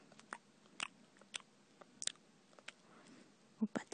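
Someone eats ramen noodles up close, with soft, sporadic chewing, crunching and slurping clicks scattered over quiet moments.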